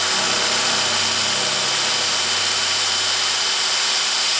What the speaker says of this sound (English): There's our review of the hammer drills.